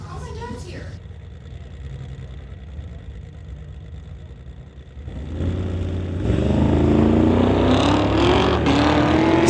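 A white Corvette and Steve's gray car launch at a drag strip: engines idle and rumble, then burst into a loud, climbing roar as both cars pull away hard, with voices in the background.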